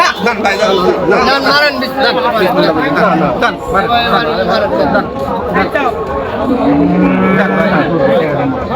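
Cattle mooing at a crowded Eid cattle market, several low drawn-out moos rising over dense crowd chatter and voices throughout, loud and close.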